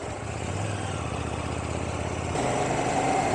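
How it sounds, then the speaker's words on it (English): A 2024 KTM Duke 790 parallel twin engine idles with a steady, low mechanical rumble, close and even throughout, growing a little fuller near the end, with no talking. "This is a parallel twin engine"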